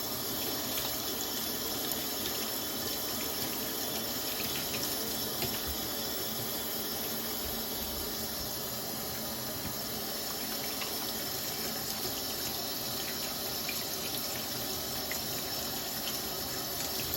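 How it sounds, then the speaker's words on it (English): Tap water runs steadily into a kitchen sink as hands are washed, a continuous close, even gush with no talking. "Next I'm going to add the glaze on, but I need to wash my hands."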